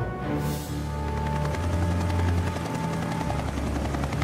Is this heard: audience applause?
no